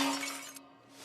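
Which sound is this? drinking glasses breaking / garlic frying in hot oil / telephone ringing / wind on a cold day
drinking glasses breaking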